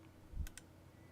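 Two quick clicks from a computer key press and mouse click sound close together, small dry taps in a quiet room.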